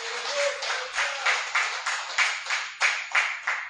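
A church congregation clapping in unison for the Lord during an evening service, a steady rhythmic beat of hand claps, fairly close and prominent with no talking over it.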